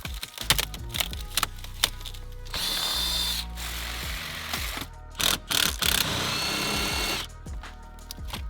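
A power tool whirs in several bursts while unbolting the shifter from a Chevrolet Camaro SS, with steady buzzing runs broken by short pauses, close and fairly loud.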